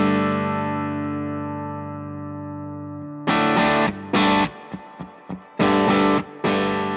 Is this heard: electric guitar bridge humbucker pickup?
yes